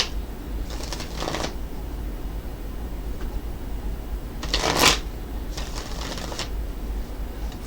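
Tarot cards are shuffled in several quick, crisp riffling bursts spread across a few seconds, close and clear over a faint steady background hiss.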